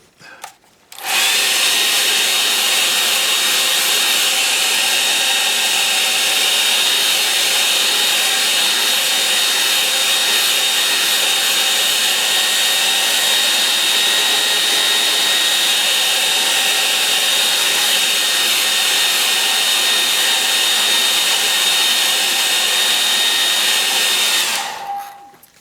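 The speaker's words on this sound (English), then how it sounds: "You can use a hair dryer on this." A hair dryer blows steadily over wet acrylic paint on a canvas, a loud, close, even whooshing motor hum that starts abruptly, holds for about twenty-five seconds, then cuts off.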